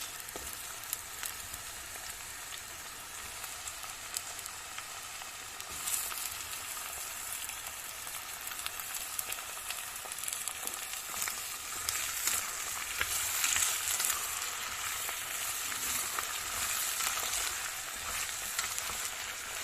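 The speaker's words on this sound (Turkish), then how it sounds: "5 dakika kavuralım." Cubed squash and potatoes sauté in a pan for squash soup, a continuous close hiss of frying that grows a little louder partway through, with occasional stirring scrapes and no talking.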